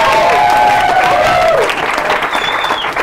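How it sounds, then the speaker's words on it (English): Loud, sustained applause from the audience at a speech event, a full crowd clapping steadily throughout, with whoops and voices rising briefly over the clapping. "Give him a round of applause"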